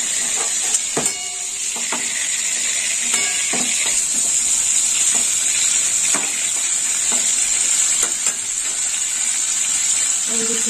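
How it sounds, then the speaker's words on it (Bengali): Oil sizzles steadily as pieces of pointed gourd fry in a pan until soft and lightly browned, with occasional clinks and scraping from stirring, close and continuous. "পটলগুলো ঠিক এরকমই ভাজা হবে, হালকা লাল আর নরম একটা ভাজতে হবে।"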